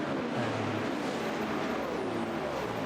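Porsche race car circling the Le Mans track in the sim racing game Le Mans Ultimate, its engine a steady, moderately distant drone that holds throughout with no voices over it.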